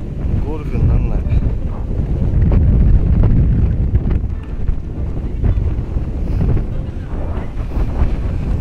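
Strong typhoon wind sweeps a golf course at Miho Golf Club, a loud, continuous roar buffeting the microphone and swelling and easing throughout.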